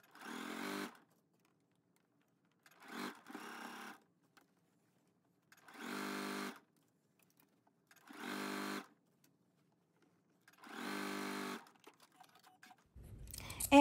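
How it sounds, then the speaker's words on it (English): Sewing machine stitching the armhole facing seam of a McCall's M8380 bodice at a 5/8 inch seam allowance, running in five short, even bursts separated by pauses, close and clear. "we are going to sew that down at a 5/8 of an inch seam allowance at our sewing machine"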